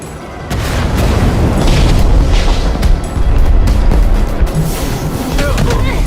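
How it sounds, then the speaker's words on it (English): Fireworks explode in the Minecraft Story Mode video game, a run of deep, loud booms and crackling blasts layered over a rumbling battle soundscape. "Fireworks!"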